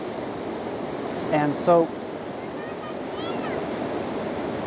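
Ocean surf washes onto a beach in a continuous, broad rushing wash with wind buffeting the microphone, while a voice speaks briefly over it.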